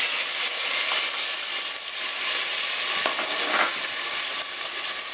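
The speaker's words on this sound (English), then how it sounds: "so we can saute our vegetables for our sauce" Minced onion sautes in a pan with a bright, steady sizzle, broken by a couple of brief scraping stirs partway through.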